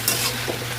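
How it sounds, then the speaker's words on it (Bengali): A few quick stirring scrapes in a kadai as vegetable bhorta of tomato, onion and coriander cooks, with a soft sizzle running underneath; short and close. "টমেটো, পেঁয়াজ, ধনে পাতা দিয়ে এটাকে কড়াই নেড়ে বানাবো ভর্তা"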